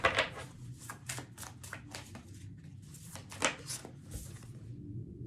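Tarot cards are shuffled before a draw, making a run of crisp riffling and flicking bursts close by, with quiet pauses between them.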